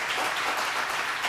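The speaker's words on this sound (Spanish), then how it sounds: "Dale un aplauso fuerte al Señor." A church congregation applauding the Lord during a Spanish-language service, steady dense clapping throughout a short stretch with no voices over it.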